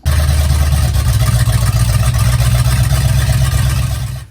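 Mercruiser inboard engine on a Mariah Z241 Davanti Magnum boat, running on a rebuilt wiring harness without exhaust installed, fires up abruptly and runs with a loud, close, steady rumbling drone before cutting off.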